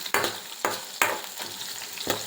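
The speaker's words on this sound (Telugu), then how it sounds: "ఒక్క ఉల్లిపాయ తీసుకున్నా కదండి పెద్ద సైజు ఉల్లిపాయ దాంట్లో వేసి వేయిస్తున్నాను" A large onion fries in a pan for a butter masala chole curry, with steady sizzling and three or four sharp scraping stirs at regular intervals, close and fairly loud with no voices.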